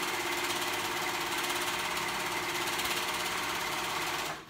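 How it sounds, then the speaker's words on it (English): A sewing machine stitches the raw edge of a stretched fabric cuff, a fast even mechanical whirr running steadily up close before stopping abruptly. "I'm gonna sew that on raw edge"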